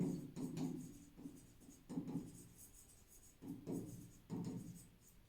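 Chalk or marker strokes writing on a board in a maths lesson on straight lines and angles, coming in short scratchy bursts with pauses between, close and moderately loud, with no talking.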